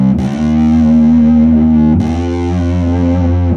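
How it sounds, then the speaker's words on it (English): A Seratone fuzz pedal from Nordstrand/Rocket Surgeon drives an electric guitar through long, held, fuzzy tones, one note ringing into a new attack near two seconds, dense harmonics staying intact; loud, close and without voices. "you want the distortion or the fuzz to stay intact all the way through the duration of the pitch"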